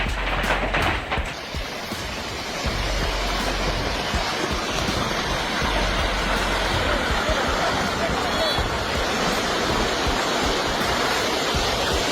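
A dense, continuous roar like rushing water, broadband and relentless, filling the whole stretch without a break.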